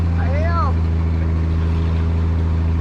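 Engine of an old Mercury Comet droning steadily while driving, a low loud hum heard from inside the car, with a brief voice speaking at the start.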